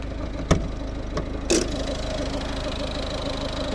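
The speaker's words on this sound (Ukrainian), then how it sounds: "Ось робота двигуна." A 2011 Volvo V50 1.6 D2 diesel engine with about 152,000 km idles steadily with a low, rough rumble, close by, interrupted by two brief knocks or clicks early on.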